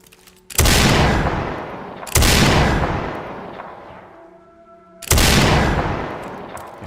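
Three loud, booming gunshots from a video game ring out one after another, each sharp crack followed by a long decaying echo that fades before the next shot.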